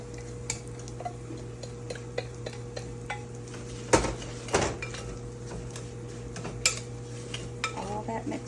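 Apple pie filling with brown sugar, cinnamon and a little nutmeg stirred in a bowl, giving soft scraping with scattered utensil clinks and a couple of louder knocks against the bowl, steady and close.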